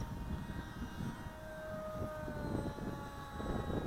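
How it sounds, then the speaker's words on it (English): Small radio-controlled model airplane on an 11.3-volt battery flying near Lake Maggiore, a steady, fairly faint electric motor whine with rising and falling tonal pitch over continuous wind rumble, no talking. "I love this aircraft."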